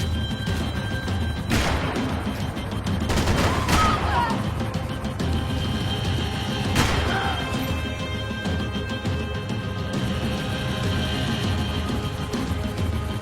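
Video game Max Payne 3 gunfire erupts in a firefight: loud sharp shots and bursts crack through a dense, constant background of game noise and music, with the heaviest volley in the first few seconds and another shot later.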